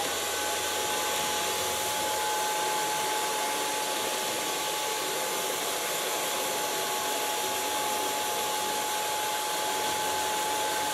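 A hair dryer blows steadily on ultra-short pixie-cut hair, a constant airy whir that is close and unbroken throughout, with no voices.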